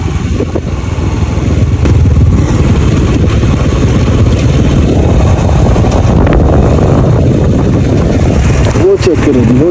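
A motorbike rides a cloudy mountain road near Chilas on the route from Skardu to Islamabad. Its engine and wind roar form a steady, loud wash throughout, while someone talks over the noise.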